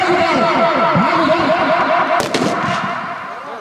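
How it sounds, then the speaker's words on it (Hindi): Firecrackers go off at a football grand final, a dense run of cracks and pops over a steady crowd roar, with a sharper burst near the end. "पटाखों की आवाज के साथ उनका इस्तेमाल और खैरमकदम किया जा रहा है"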